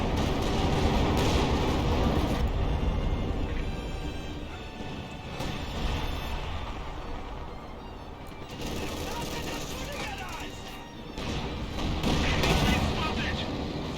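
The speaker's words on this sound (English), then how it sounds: "there goes the Panzerfaust shot" Company of Heroes 2 4v4 battle with dense, continuous gunfire, artillery booms and explosions rolling over each other for many seconds, busy and loud, while a commentator talks over it; no single Panzerfaust shot stands out.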